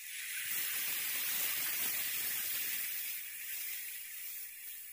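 Sour tamarind water hits a hot pan in a Bengali fish curry, giving a loud, steady hiss and sizzle that swells, holds for several seconds and eases slightly at the end.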